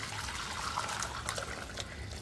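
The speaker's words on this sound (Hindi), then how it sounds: "चिकन निकालने में अब ये जो इसका यखनी है इसको छान लेंगे" Chicken yakhni broth strained through a sieve, a steady close trickle and splash of liquid running continuously without speech.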